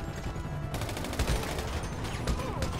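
Rapid bursts of gunfire from GTA 5 Online, a dense fusillade of repeated shots, loud and continuous through most of the stretch.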